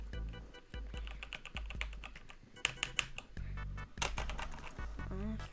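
Fast typing on a computer keyboard during a Minecraft game, a string of near, sharp key clicks with occasional louder keystrokes, heard without any talking.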